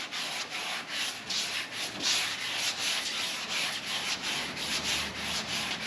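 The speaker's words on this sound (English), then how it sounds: "I'm basically holding it and letting the sandpaper do all the work on that" A sanding block with sandpaper rubs lightly over a surface, with no pressure applied, making a steady rhythmic scratching in repeated strokes that rise and fall, close and alone.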